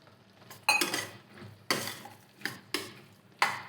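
A spoon stirs double beans into tomato in a frying pan over low heat, with five distinct scraping clanks against the metal at irregular intervals and a faint sizzle between them, no voices.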